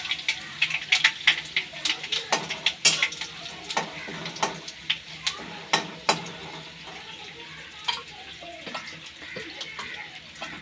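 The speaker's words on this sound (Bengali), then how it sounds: "কড়াইয়ের মধ্যে সরষের তেল দিয়েছি, শুকনো লঙ্কা তেজপাতা দিয়েছি। এখন দিয়ে দেব ভাজা জিরেটা" Mustard oil tempering with dried chilli, bay leaf and roasted cumin crackles in a wok. Sharp spattering pops and stirring clatter come close and irregular over a soft watery hiss.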